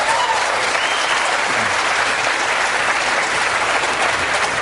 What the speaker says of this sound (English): The mention of the execution of 234 people drew applause